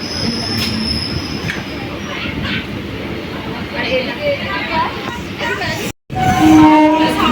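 Passenger train pulling into the newly built Arambagh station past track works on both sides, with a steady rumble, rail squeal and a brief horn-like tone near the end, heard from on board. Faint voices sit under the noise.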